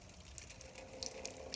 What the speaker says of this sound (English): here's the water. I'm just going to pour it in